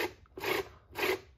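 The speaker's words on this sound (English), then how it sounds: "it is rubbing on" A part scraping against the motor of an Arrma Infraction RC car, heard as two close, rasping rubbing strokes in quick succession with a short pause between.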